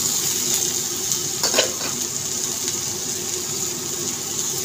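Tomato dropped into a pan of fried ginger and garlic, giving a steady, close sizzle and hiss of frying with a brief stirring scrape partway through, no voices.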